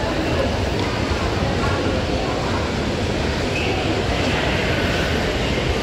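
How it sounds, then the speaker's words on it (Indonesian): Light rail train near an LRT station, a broad steady rumble and rushing noise filling the clip, with background chatter mixed in. "Oh, itu ada LRT lagi guys"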